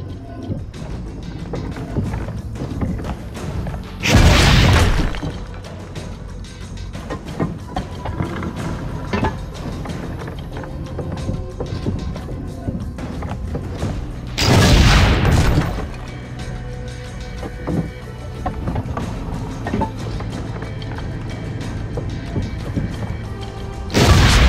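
Cannon shots boom out in Assassin's Creed: Brotherhood: two loud, full blasts about ten seconds apart and a third starting at the very end, each with a rumbling decay over steady background ambience and scattered small clatter.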